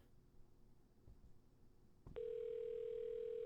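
A pawn shop video game plays a quiet ambient stretch, then a telephone tone snaps on and holds steady and loud as the phone rises from the corner.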